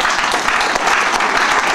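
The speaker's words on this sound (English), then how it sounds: "you can clap." An audience at a business pre-launch event bursts into loud, dense applause, with many hands clapping at once in a continuous crowd roar that is close and sustained throughout.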